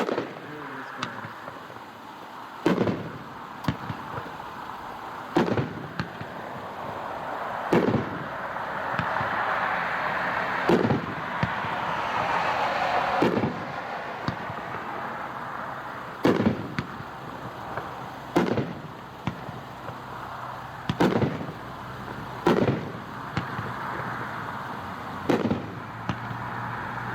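A 16-shot 500-gram Policewoman firework cake fires at a dealer demo show, its sharp launches and bursts popping in a steady series about every one to two seconds, loud against an outdoor crowd murmur.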